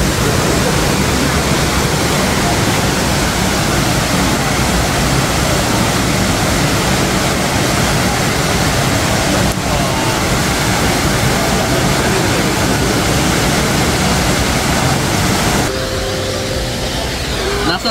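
Shifen Waterfall roars as one loud, steady rush of falling water that fills the whole stretch, broken only near the end by a brief change in the sound.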